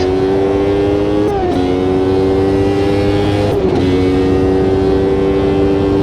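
Tyrell Honda and McLaren race car engines scream loudly and steadily in a racing game, holding a high constant pitch, dipping briefly with two gear shifts before climbing again, with no talking.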